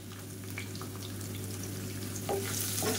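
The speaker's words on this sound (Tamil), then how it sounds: "இது எல்லாமே நல்லா வதக்கி வச்சுக்கலாம்" A steady, crackling sizzle of ginger, garlic and green chilies sautéing in hot oil, continuous and close, with faint clinks and shifts near the end.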